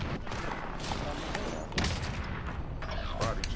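Shotgun blasts and other gunfire in the video game Call of Duty: Warzone boom in close, heavy reports over dense background game noise, with someone talking over the fight.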